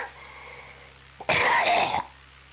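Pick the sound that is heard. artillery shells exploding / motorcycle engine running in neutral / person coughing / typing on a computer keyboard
person coughing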